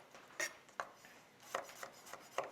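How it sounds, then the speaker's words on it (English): A knife slicing gherkins on a board, heard as soft, irregular taps and scrapes spaced a fraction of a second apart, quiet and close, with no talking. "So a few gherkins, I'm gonna slice them up."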